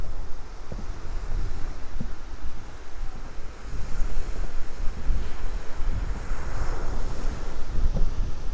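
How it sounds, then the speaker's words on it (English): Atlantic Ocean surf near Cape Canaveral, a steady roar of breaking waves mixed with heavy wind buffeting the microphone, continuous and loud throughout with no voices. "And here we are at the Atlantic Ocean."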